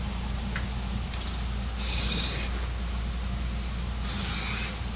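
Two short hissing bursts of coating sprayed onto a sanded car headlight, each about half a second to a second long, over a steady low hum in the background.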